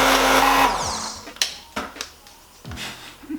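A hand blender blitzing pizza sauce whirs loudly for under a second and winds down, followed by a few clunks and taps of the tool against a container.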